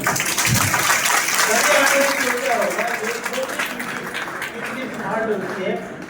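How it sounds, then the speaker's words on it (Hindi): Steady, dense applause from an audience at an international conference in a Gorakhpur institute college hall, holding loud and even for about six seconds with a voice talking over the clapping. "एक बार चींटी के लिए तालियां जोर से।"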